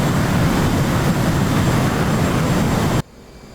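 Steady, loud roar of an F/A-18C jet engine in a flight simulator during a carrier approach, a dense broadband rumble that holds constant and then cuts off sharply near the end.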